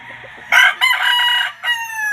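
A yellow-legged sweater gamefowl rooster at a gamefarm crows loudly and close, a long strained cock-a-doodle-doo broken into bursts, with a quiet background beforehand.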